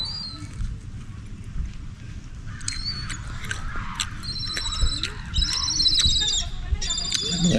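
Bird calls are heard outdoors in Alberta, Canada, with repeated high chirps and squawks growing more frequent toward the end, over a low rumbling background.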